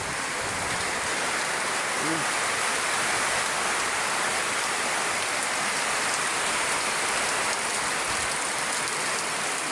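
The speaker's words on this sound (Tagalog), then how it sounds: "Grabe yung lakas ng ulan." Heavy rain from Typhoon Landaw pours steadily as a dense, continuous hiss, loud and unbroken throughout.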